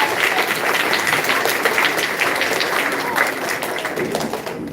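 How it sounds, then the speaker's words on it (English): Audience applause for a school principal at an elementary school gathering, a dense, even wash of clapping that carries on throughout, with some voices mixed in beneath. "Big round of applause,"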